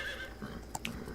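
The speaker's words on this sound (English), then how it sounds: "Ooh, a horse." A horse in the video game Metal Gear Solid 3 gives a brief, faint neigh among soft in-game ambience.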